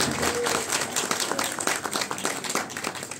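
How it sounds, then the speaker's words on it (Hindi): Audience applause at a stage performance during a Delhi-NCR performing championship in Muradnagar: dense, steady clapping from a crowd, close and loud throughout, gradually thinning slightly toward the end. "एक बार जोरदार ताली बजा दीजिए इनके लिए।"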